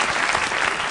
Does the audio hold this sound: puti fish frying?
no